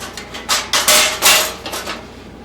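A metal wok stand is set in place on an IncrediGrill, giving several sharp, close metallic clanks and scrapes in quick succession.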